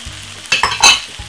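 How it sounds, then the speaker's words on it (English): A frying pan of tuna and mixed vegetables being stirred, a few loud close scrapes and shuffles of the spoon over a soft sizzle, no voices. "Give it a lovely stir."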